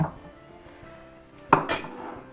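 A utensil clanks sharply against a mixing bowl as softened butter goes in for pudding sugar cookies, one bright clink followed by a few softer scraping knocks over a quiet kitchen hum.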